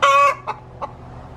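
A broody hen shut in a broody jail lets out one loud, drawn-out squawk, then two short, softer clucks with pauses between them.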